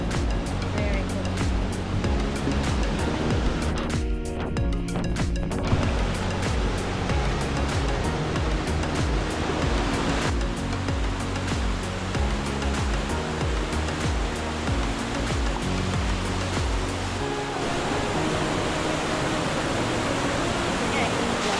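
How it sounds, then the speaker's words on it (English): Steady, loud rushing roar of a waterfall in a gorge, heard continuously up close as broadband noise with faint voices mixed in. "You can see the waterfall between us."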